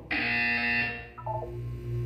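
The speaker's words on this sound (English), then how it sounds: "When you hear the buzzer, look down at the floor." A harsh electronic buzzer sounds in a Portal 2 test chamber, one sustained loud tone lasting about a second, followed by softer descending electronic beeps and a low hum.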